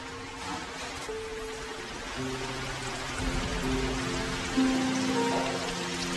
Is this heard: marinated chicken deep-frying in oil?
yes